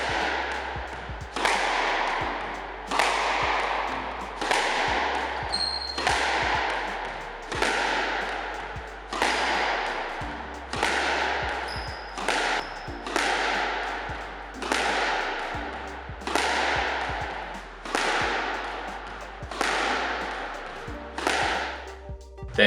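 A squash ball is struck hard again and again in a side wall drill. Sharp whip-like cracks come at a steady rhythm of about one every two seconds, each followed by a short rebound thud in an echoing court.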